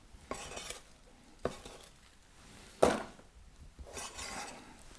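A knife chops onions for mirepoix on a board, a few sharp separate knocks spaced apart, with light clatter between them in a quiet kitchen.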